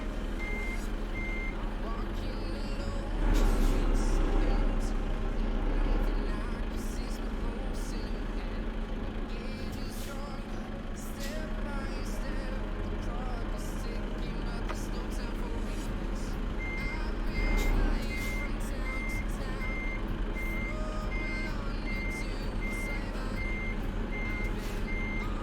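A truck reverses a trailer while its reversing alarm beeps steadily and repeatedly over a continuous low diesel engine rumble, with occasional louder engine swells.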